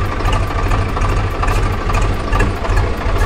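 A farm tractor engine idles nearby in a steady low chugging rhythm, its regular thumping pulses running unbroken beneath a rough mechanical rattle, with no voices.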